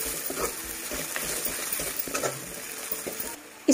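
Coriander, cumin, turmeric and red chili powder roast in a hot pan for a paneer dish, a steady close sizzle broken by scraping stirs, ending with a sudden knock.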